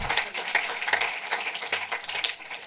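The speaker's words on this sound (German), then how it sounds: "ganz großen Applaus für Hans-Peter Marbach" An audience at a film event claps briefly, with a thin spread of applause marked by a few distinct, sharper claps, and no voices over it.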